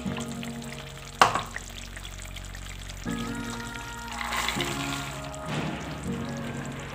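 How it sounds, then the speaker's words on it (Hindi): Radish pods go into a pot of softened potatoes whose water has mostly cooked off: a sharp clatter, then steady sizzling and stirring noises close by. "अभी मैं इसमें डाल दूँगी सब्ज़ी।"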